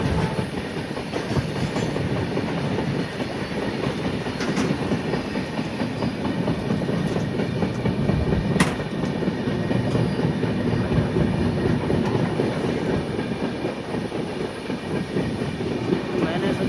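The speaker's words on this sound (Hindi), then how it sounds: "गूड्स ट्रेन है जो एक्सकावेटर को लेके जा रहा है" A goods train loaded with excavators rolls past on an Indian railway line, a steady loud rumble of wheels and clattering wagons filling the whole stretch without letup.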